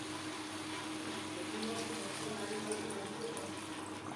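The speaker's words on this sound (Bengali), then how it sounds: "এখানে আমি আর একটু জল অ্যাড করব" Water poured into a cooking pan of potatoes and spices for a Bengali tangra fish curry, a steady hissing splash and trickle of liquid running continuously at moderate, fairly soft level.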